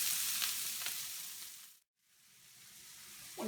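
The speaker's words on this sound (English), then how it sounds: "So we're going to saute the onions for 4 or 5 minutes till they're not really brown and really cooked" Onions sauteing in a pan, cooked until translucent for chicken mole on the grill, give a steady loud sizzle with faint stirring scrapes, a brief drop-out near the middle, then the hiss builds again.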